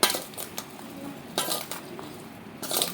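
A spoon mixing chili powder into ivy gourd pickle gives a few sharp scraping clinks against the container at irregular intervals, close and moderately loud over a quiet, soft background.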